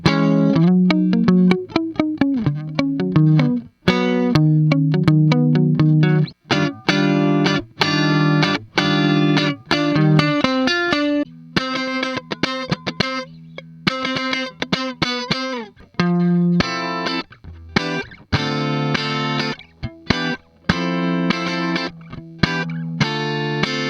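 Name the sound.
electric guitar through amp simulation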